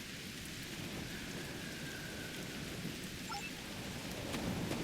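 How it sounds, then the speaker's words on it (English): Steady rain falls on planet Ryza in Star Trek Online, an even hiss of drops with a low rumble of thunder beneath, faint and continuous with no voices. "Wow, rain on Ryza."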